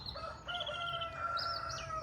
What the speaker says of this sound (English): Can you hear all them cockerels going off?